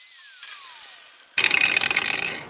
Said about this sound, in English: I'm going to go ahead and see if I can cut that bolt off